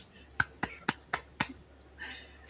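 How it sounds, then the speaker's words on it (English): A person claps hands together in a quick, seal-like flapping manner: five sharp, close claps in an uneven rhythm, followed by a brief soft rustle, heard alone in a quiet room. "it was me seal clapping"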